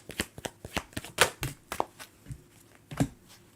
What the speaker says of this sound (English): I'm just shuffling just to see if we're going to get some energy about him.